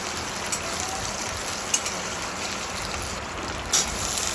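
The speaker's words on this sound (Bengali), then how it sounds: "কাঁচা লঙ্কাটা দিয়ে দিলাম।" Green chillies frying in oil with peanuts in a pan while making vegetarian chowmein, a steady close crackling sizzle with a few sharper pops, no talking.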